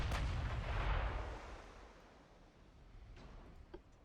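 A deep, booming volley of battleship guns in the naval combat game Ultimate Admiral Dreadnoughts, the heavy rumble rolling off and fading over several seconds, followed by a faint distant thump, with no voices.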